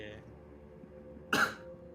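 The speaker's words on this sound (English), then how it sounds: "we're coughing a little bit" A person coughs during a live esports tournament broadcast, two short sharp coughs close to the microphone over a quiet background hum, without any talking.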